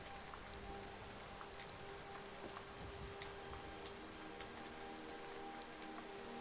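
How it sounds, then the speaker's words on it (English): Steady rain falls in the fantasy game Skyrim, a constant dense hiss of drops on surfaces with scattered brighter ticks, even and unbroken throughout with no talk. "Wish this rain would stop."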